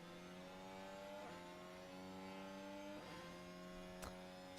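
Formula 1 cars leave the pit lane during qualifying at the Mexico Grand Prix, heard as faint, distant engine drones that shift in pitch as cars pass, ending with a sharp click.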